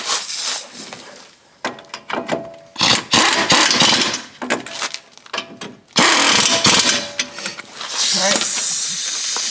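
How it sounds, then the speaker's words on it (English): A smaller impact gun snugs front brake bolts on a 2004 Toyota Sienna in several loud, hissing bursts of varying length, separated by short pauses in a close, noisy garage setting. "I'm going to put these in with my smaller gun because I need to torque them,"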